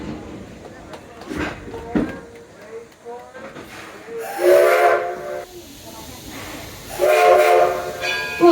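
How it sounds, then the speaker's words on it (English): The Edison steam locomotive at Greenfield Village Railroad sounds its whistle in two loud, sustained blasts, with hissing steam and talk in between. "I want to remind you to stay seated until you hear that whistle"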